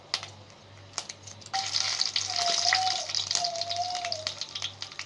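Mustard seeds and two dry chillies sizzle and crackle in hot oil for a santula vegetable dish, a loud steady frying hiss that swells midway with spattering pops, heard without talk over a low background hum.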